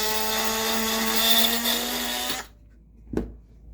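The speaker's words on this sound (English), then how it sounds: "I'm going to Dremel all of my lamp sockets and top side switches" A Dremel rotary tool whines steadily at high speed while polishing lamp sockets and switches on a Stern Galaxy pinball machine, then cuts off abruptly, followed by a single brief clunk.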